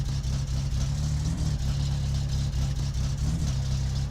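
A car engine in My Summer Car, reversing slowly with the choke pulled and the handbrake released, holds a steady, close, low hum with a slight rise and dip in pitch and no voices.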